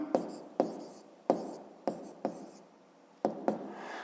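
Pen strokes on paper while writing out numbers in a 5th-grade math exercise: a series of about seven quick scratchy taps and short scribbles, close and fairly quiet, with no voice.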